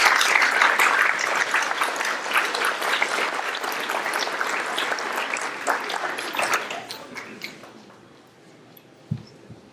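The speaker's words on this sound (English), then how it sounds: "let's give a great round of applause for our 2017 William Floyd Distinguished Alumni Class." A large audience applauds loudly and steadily at the 2017 William Floyd Distinguished Alumni Day ceremony. The sustained clapping fades out after about seven seconds, leaving quiet room sound with a faint knock.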